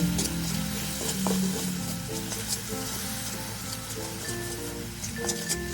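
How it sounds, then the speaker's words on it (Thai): Savory filling of garlic, pepper, palm sugar, fish sauce and salt being stir-fried for a sweet-salty dessert filling, a steady close sizzle with scraping stirring strokes throughout. "ผัดให้มีกลิ่นหอมกระเทียมพริกไทยขึ้นมาจากนั้นก็ใส่น้ำตาลมะพร้าวได้เลยค่ะ"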